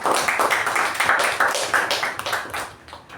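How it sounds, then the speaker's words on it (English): Audience applause at a Toastmasters club meeting, a close, lively burst of hand clapping with distinct individual claps that carries on for about three seconds before tapering off. "Let's give a huge round of applause for Toastmaster Raja and Toastmaster Deepa"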